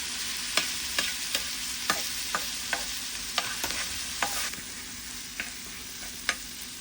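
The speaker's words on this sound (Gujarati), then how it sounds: "તો બધા મરી મસાલા લખાઈ ગયા છે એટલે અમે ટામેટુંને બરાબર મિક્સ કરી દઈએ।" A spoon stirs tomatoes with spices and ginger-garlic chutney in a pan, giving a steady close sizzle broken by about a dozen sharp scraping clicks at uneven intervals.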